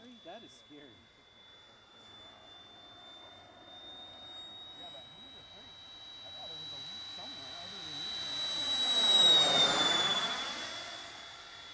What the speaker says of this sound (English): Definitely like the sound of that engine.